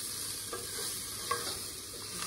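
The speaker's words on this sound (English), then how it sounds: "Give this a good stir." Vegetarian camp chili sizzling in a lidless pan of oil and vegetable juices while being stirred, a steady frying hiss with a few soft scraping strokes, close and alone.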